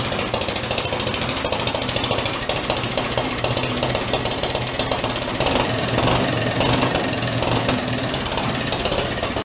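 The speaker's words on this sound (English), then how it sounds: "I hear an engine in there running." A motorcycle engine runs in a workshop while its timing is being worked on, a loud, rapid, hammering mechanical clatter that pounds on without pause for the whole stretch.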